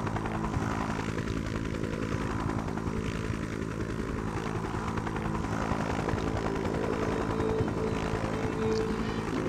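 A helicopter in the game Just Cause 3 keeps up a continuous loud engine and rotor drone, with a dense steady roar and periodic swelling tones throughout.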